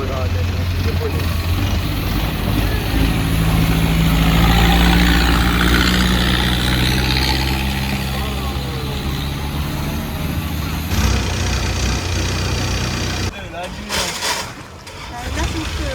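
Boat engine droning steadily on a floating market waterway near Bangkok, with a low rumbling hum throughout that eases after a while, then a burst of handling noise near the end; voices faintly under it.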